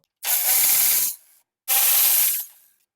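Two bursts of harsh spraying hiss, each about a second long with a short tail, sound close by during radiator fan removal on a 1994–2001 Acura Integra.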